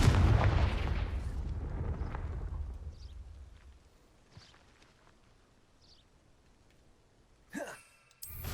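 A Confringo fire spell in Hogwarts Legacy bursts with a loud, low boom at the very start and then rolls away into a long fading rumble, with faint magical chimes after it and a sharp crackle near the end.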